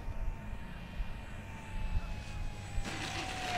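Radio-controlled BlitzRC Supermarine Spitfire Mk24 model plane, 1100mm, coming in to land with landing gear down and no flaps, its electric motor giving a steady whine with a faint tonal drone and breezy outdoor noise.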